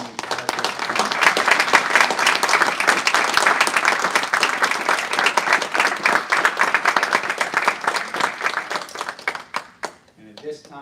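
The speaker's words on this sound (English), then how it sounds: "let's give us a big round of applause for Gary" Sustained audience applause at a military promotion ceremony for a major, dense clapping from a crowd that builds, holds for about nine seconds, then tapers off, with some voices mixed in.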